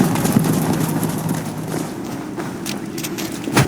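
Rhythmic clip-clop of hooves and footsteps moving across ground in the video game Assassin's Creed Valhalla, a steady sequence of close, moderately loud thuds over ambient game background, no talking.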